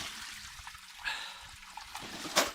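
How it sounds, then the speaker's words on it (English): Water pouring and trickling out of one tipped end of a storage box dragged outside a garage, a soft uneven splashing stream with a few louder gushes near the end. "watch the water flow out"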